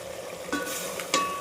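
Chicken biryani base frying in a pan, a steady close sizzle broken by two sharp scraping stirs about half a second apart.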